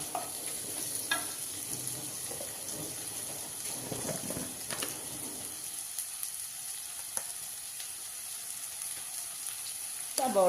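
Onions softening in a hot pan with a pinch of salt, a steady frying crackle with occasional stirring scrapes, close and continuous, with no one talking.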